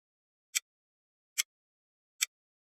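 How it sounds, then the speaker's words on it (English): A clock ticks three times, evenly spaced under a second apart, each tick a crisp, bright, brief click against complete silence. "A clock."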